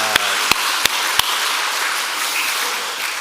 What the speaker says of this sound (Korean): 박수로 영광을 올립니다